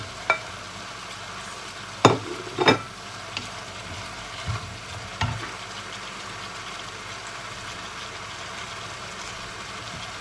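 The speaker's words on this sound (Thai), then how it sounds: "แล้วเราก็ผัดเลยนะคะ" Vegetables stir-fry with garlic stems and celery in a pan for a Thai mixed-vegetable soup, a close, steady sizzle broken by a few sharp clanks and scrapes of a spatula against the pan.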